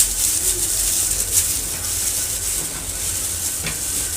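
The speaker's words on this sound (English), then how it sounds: "Make sure you mix every particle of your flour." Vanilla cake batter being stirred by hand as flour is mixed in, a steady soft scraping and swishing that runs continuously without pause, close and moderately loud, with no voices over it.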